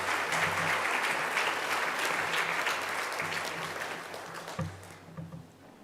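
A school prize-giving audience gives a sustained round of applause, a broad wash of many hands that holds steady before tapering off, with a low hum underneath.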